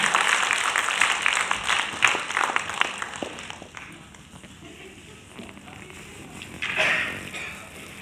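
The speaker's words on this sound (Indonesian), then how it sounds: "Beri tepuk tangan untuk narasumber." Audience applause for the speakers at a national seminar in Jakarta, a dense burst of clapping that thins out midway and then briefly picks up again.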